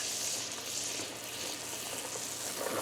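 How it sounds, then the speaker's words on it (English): Butter melting in a pan for Guyanese butter sirnee, giving a steady, close, bright sizzle and fine crackling that holds evenly throughout with no talking. "So just wait for your butter to melt, and then you're going to add your flour."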